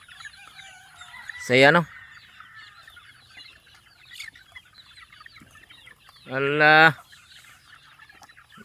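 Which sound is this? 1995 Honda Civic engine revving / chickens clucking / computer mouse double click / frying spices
chickens clucking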